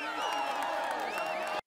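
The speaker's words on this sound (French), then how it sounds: "Allez, on l'applaudit encore." A dense, steady roar of crowd cheering and applause in a Tour de France 2017 cycling video game, bright and continuous, cutting off abruptly at the end.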